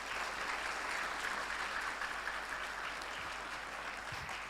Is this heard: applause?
yes